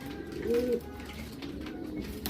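Soft, low cooing of young homing pigeons close by, a brief throaty coo rising over a steady background murmur.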